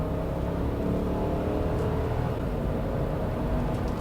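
A 2003-2009 Lexus GX 470 gathers speed at part throttle, its engine a steady, smooth, loud drone heard from inside the cabin, with no one talking.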